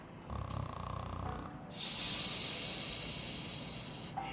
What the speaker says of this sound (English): Amy snored.